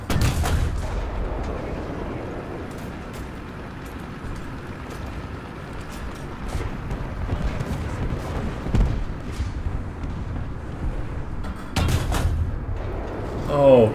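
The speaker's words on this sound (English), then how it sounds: "As soon as you start uncapping, then the artillery is going to start flying." Artillery fire in War Thunder around a Swedish Strv 74 light tank, with several heavy booms and bursts scattered across the clip over a low rumbling engine bed, loudest near the end.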